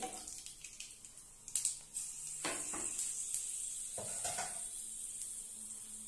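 Cinnamon and cloves sizzle in hot oil with a steady bright hiss, broken by a few sharp spits and crackles, close up with no talk.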